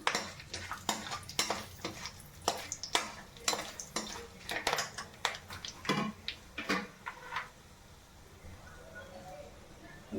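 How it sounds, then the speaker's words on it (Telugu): Onions fry with whole garam masala (star anise, cardamom, cloves, cinnamon) for shahi paneer, the pan stirred with a metal spoon; a close, busy clatter and scraping runs over a faint sizzle, with some voices. "ఇది వేసుకున్న తర్వాత ఉల్లిపాయలు వేగించుకుంటాను"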